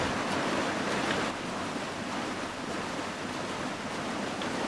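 Water rushing through a traditional gharat water mill, a dense, steady roar of flowing water close by with no talking.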